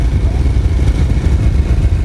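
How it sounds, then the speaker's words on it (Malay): A motorcycle engine starts and settles into a loud, close, low idle, with a steady rumbling putter for a couple of seconds. "Enjin motosikal dihidupkan, menandakan pencarian rezeki kini bermula."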